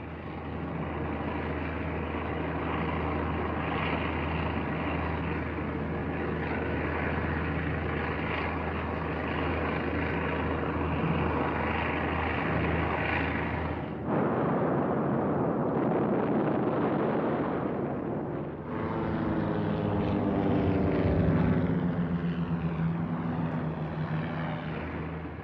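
Propeller aircraft engines drone loudly and steadily during Luftwaffe air attacks on fortresses and airfields, accompanied by a continuous low roar with a sudden shift midway and rumbling, explosive-like noise later.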